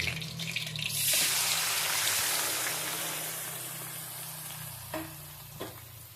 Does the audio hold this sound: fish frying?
yes